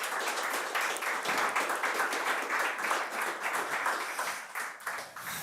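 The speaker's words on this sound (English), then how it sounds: "and big clap for you guys." An audience at a healthtech incubator kick-off ceremony applauds, with dense, steady clapping that continues at even strength for several seconds.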